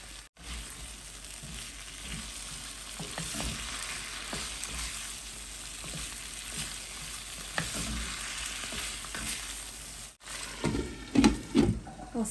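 Spice paste frying in a pan for a Bengali fish curry with cauliflower and potato, a steady close sizzle with repeated scraping strokes of a spoon stirring it, louder clacks near the end; no talking.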